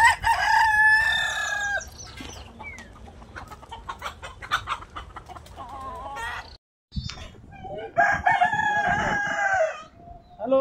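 Free-range country chickens cluck and a rooster crows loudly and close, twice, once at the start and again near the end, with busy flock noise in between.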